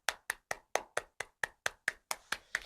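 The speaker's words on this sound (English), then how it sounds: "Let's just give it a round of applause." A round of applause from a pair of hands: about eleven sharp, evenly spaced claps in quick succession, close and clear, with no other sound.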